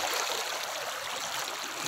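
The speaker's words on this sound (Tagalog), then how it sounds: "Talagang malaki yung tubig sa bahay namin." Strong floodwater current rushes through a flooded neighbourhood in a continuous loud, dense roar and hiss of churning water, steady throughout with no voices.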